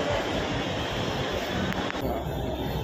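A metro train runs with a loud, continuous rumble and rushing noise, with a couple of brief clanks partway through as it passes over track switches.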